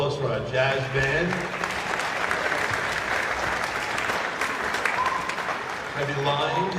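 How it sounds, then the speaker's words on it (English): An audience at an elementary school spring concert gives the jazz band a round of applause, dense steady clapping throughout with a voice audible at the start and end. "All right, one more round of applause for our jazz band."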